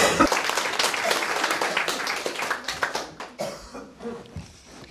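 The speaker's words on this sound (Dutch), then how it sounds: "En ik wil dat we voor Esmee een super hard applaus geven" Audience at a local TV broadcast applauds a contestant, a loud burst of clapping that thins out and fades toward the end, with scattered claps and a cough.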